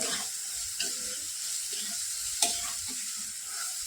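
Green chili and garlic paste with turmeric and salt sautés in a pan, a steady close sizzle with a few soft scraping stirs and one sharp utensil tap.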